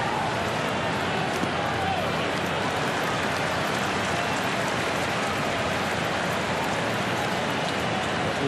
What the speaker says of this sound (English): And a lot of rain in Chicago tonight